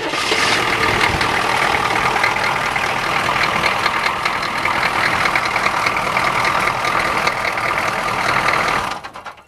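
A Chevrolet K5 Blazer engine, hot-wired, turns over and runs roughly for several seconds, a loud continuous rumble up close that dies away at the end.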